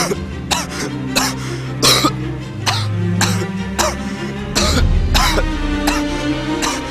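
A person coughs repeatedly and hard in a rough, rhythmic series of about a dozen loud, close bursts with short gaps between them, with no other sound covering them.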